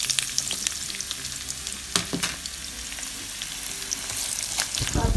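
Onions fry in hot oil for an aubergine and fish sauce, crackling loudly and continuously with sharp spitting pops scattered throughout and a busier burst of sizzle near the end.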